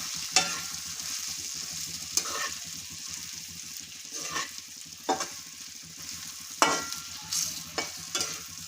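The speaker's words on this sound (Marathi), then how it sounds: "ह्या मिरच्या आपल्याला पाच मिनटं शिजू द्यायच्या आहेत" Stuffed green chillies cooking in oil with masala, a steady close sizzle broken by several sharp spatula scrapes and clinks as they are turned, with no talking.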